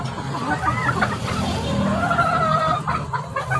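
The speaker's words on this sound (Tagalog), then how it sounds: "Napakagandang manok po ito mga kaibigan." Chickens cluck and cackle close by in short repeated bursts, with a soft background hum of the yard.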